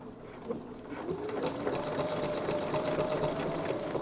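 A sewing machine backstitching while piecing a quilt block, a rapid, close mechanical whir of the needle that starts after a short click and runs steadily to the end.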